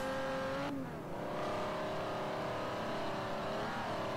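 A race car's engine drones steadily in Forza Horizon as it takes turns, the pitch dipping and climbing with gear changes and throttle, loud and continuous with no talk.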